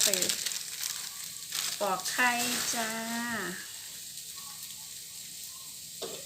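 Spice paste for a Thai-style braised pork belly stew being stir-fried in a pan, a close, steady sizzle with scraping stirring strokes, while a voice chatters over the first few seconds.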